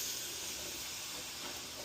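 Brandy sizzles in a hot roasting pan over high heat with toasted flour, giving a steady close hiss with no breaks.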